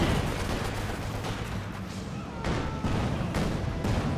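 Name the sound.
satchel charge explosion and gunfire in video game Company of Heroes 2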